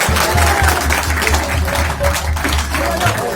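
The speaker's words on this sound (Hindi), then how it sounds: "तालियां बजाएंगे जोर से, तालियां बजाओ" Audience at a Hare Krishna center applauding loudly, a dense continuous clapping close by, with a few voices mixed in.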